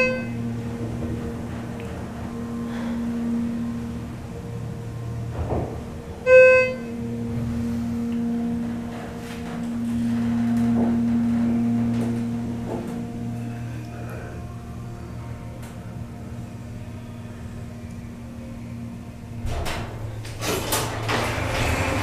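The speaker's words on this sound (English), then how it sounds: "we'll start the motor with doors closed" A Schindler HT 330A hydraulic elevator motor starts and runs with its doors closed, a steady low hum lasting most of the stretch, punctuated by a few clunks and a brief tone.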